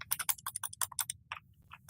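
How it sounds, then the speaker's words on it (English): Fingers tap rapidly on a computer keyboard in a burst of crisp, close clicks, with a few short pauses and then two last isolated keystrokes. "I am typing English."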